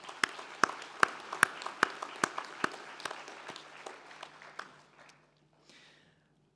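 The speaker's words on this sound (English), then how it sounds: "let's give all your supporters, friends, family and academic staff a big round of applause" Audience applause at a SIM – University of Stirling graduation ceremony: a run of sharp, evenly spaced claps stands out over a steadier wash of clapping, thinning and dying away after about five seconds, followed by near silence and a faint low hum.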